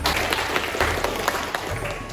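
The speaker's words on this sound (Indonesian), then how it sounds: "Tepuk tangan" A group claps in a classroom lesson, a dense continuous patter of many hands at moderate loudness, sustained evenly through the short moment.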